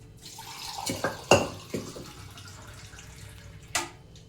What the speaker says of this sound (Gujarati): થોડું પાણી વેરવાનું.